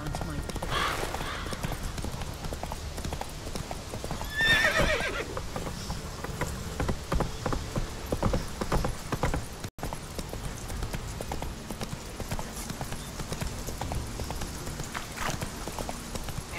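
Roach, Geralt's horse in The Witcher 3, gallops with steady hoof clip-clops and a whinny early on, running under game ambience while someone talks over it.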